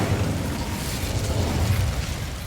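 The Incendio fire spell in Hogwarts Legacy bursts with a short, muffled whooshing roar, its low crackling rumble filling the brief moment at moderate loudness.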